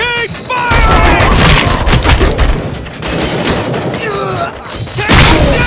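Rapid bursts of gunfire in the RoboCop: Rogue City video game during a bank heist, loud and sustained, with shots layered over each other and shouted voices mixed in.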